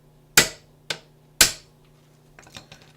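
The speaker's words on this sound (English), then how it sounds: "I'm going to drive this cap down until I can see the snap ring groove fully exposed." A socket is hammered down onto a U-joint cap on a Ford Explorer driveshaft, three sharp metallic strikes close together, then a few lighter taps and clicks, with no one talking.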